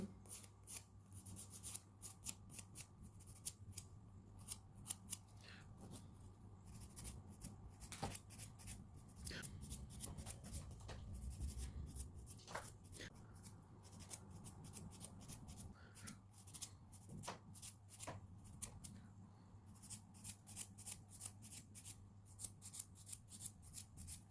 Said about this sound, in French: J'ai limé mes ongles.